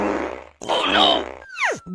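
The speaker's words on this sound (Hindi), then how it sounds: "बाप रे, कितना जहरीला पादता है।" Cartoon fart in a Hindi animated comedy, a loud, buzzy, drawn-out blast with a short break partway through, ending in a bouncy, falling comic twang; no speech over it.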